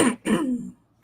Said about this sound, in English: While I clear my cough